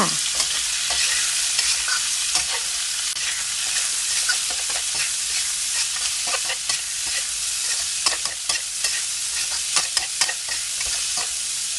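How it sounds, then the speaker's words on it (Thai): Loud, steady sizzling of pork stomach stir-frying in a hot pan with fried garlic, with scraping and clattering of the spatula throughout. "จากนั้นก็ใส่กระเพาะหมูลงไป แล้วก็ผัดต่อค่ะ"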